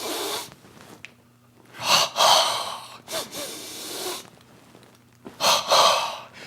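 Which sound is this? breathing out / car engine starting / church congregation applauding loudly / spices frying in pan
breathing out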